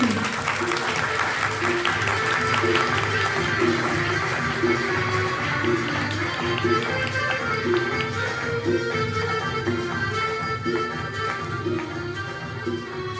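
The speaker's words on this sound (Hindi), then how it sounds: "तो बजाइए ताली" Audience clapping at an ISKCON drama performance in Narmadapuram, a sustained wash of many hands mixed with music and a rhythmic beat, moderately quiet throughout.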